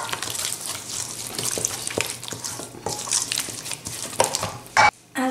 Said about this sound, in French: Je vais mélanger tout ça pour former une bonne pâte.